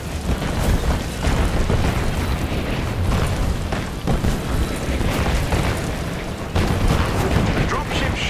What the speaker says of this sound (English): Their artillery's targeting you. Incoming!